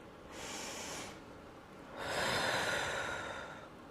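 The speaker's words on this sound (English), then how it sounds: "I want you to take a deep breath with me" Two audible breaths: a short inhale then a longer, deeper exhale, close and fairly soft, with a quiet pause between them.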